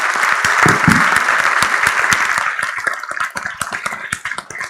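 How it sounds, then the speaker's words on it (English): An audience at a university lecture by economist Alvin E. Roth breaks into loud, sustained applause, a dense wash of clapping that thins slightly toward the end. "let's give another big round of applause to Professor Roth and all of us."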